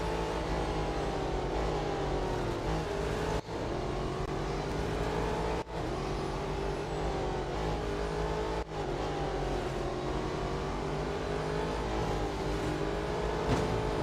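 Race car engines roar continuously in the Real Racing 3 mobile racing game, a dense, loud drone of several cars that rises and falls with gear changes throughout.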